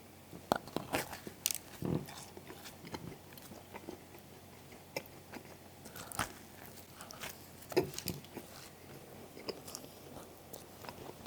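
Bites and chewing of a Cheetos-flavored donut from Dunkin' Korea, with several close, soft crunchy bites and chewing sounds spread unevenly through a quiet room, without any talking.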